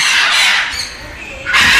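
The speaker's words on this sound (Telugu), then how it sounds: "ఇక్కడ చాలా కామ్గా ఉంది సౌండ్ అసలే బర్డ్ సౌండ్ తప్ప వేరే ఎండట్లేదు అసలు" Birds at Jurong Bird Park in Singapore squawk loudly and close by in two harsh bursts separated by a brief quieter gap, with no talking over them.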